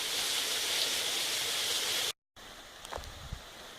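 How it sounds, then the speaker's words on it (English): A small woodland waterfall at Salt Fork State Park, heard as a steady broadband rush of falling water, loud and continuous, then cutting out and returning softer with a few faint thumps. "Back there is the waterfall."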